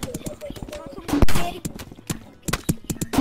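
Video game gunfire comes as sharp, separate shots and short bursts with clear gaps between them. The shots are loud and close, and a voice talks between them.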